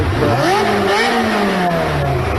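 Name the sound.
car engine revving before a crash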